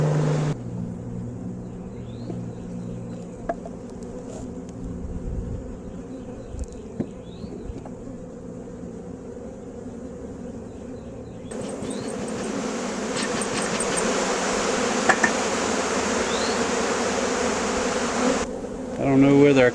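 Honey bees buzz steadily around a hive frame during a colony split, a dense continuous drone close by that thickens and grows louder in the second half, with no talking.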